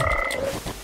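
A toad croaks once in the video game Guild Wars 2 Super Adventure Box, a short warbling call that is clear and fairly loud, with no voices.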